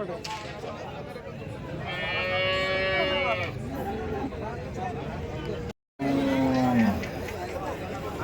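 Several cattle moo loudly over a busy crowd murmur at a cattle market, one long low call followed later by another after a brief gap.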